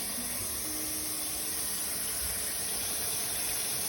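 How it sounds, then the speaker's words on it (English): Cold tap water runs steadily over a raw turkey being rinsed in a sink, a constant hissing wash with no pauses. "I'm rinsing it in cold water."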